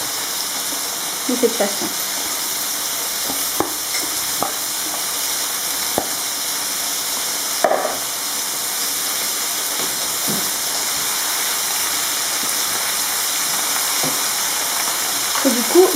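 Spinach is added to a hot pan for a spinach quiche, with a steady, close sizzle and hiss of frying, a few stirring clicks and a brief spoken aside.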